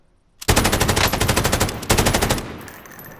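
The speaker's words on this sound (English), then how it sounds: "I laid down some shots on him, too." Automatic gunfire in a Warzone duos match: two long, loud, close bursts of rapid machine gun fire, the first about a second and a half, the second shorter and trailing off.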